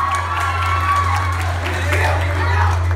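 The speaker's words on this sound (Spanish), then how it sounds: "Y fuerte el aplauso para Karina Vázquez y Jorge Acosta." A crowd at a quinceañera claps and cheers for a couple, scattered whoops over heavy bass music and chatter, sustained throughout.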